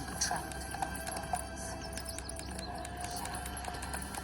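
Horse hooves clip-clop steadily while riding a horse in a video game played on an MSI Claw A8 handheld, the rhythmic hoofbeats mixed with chirping birds and game ambience.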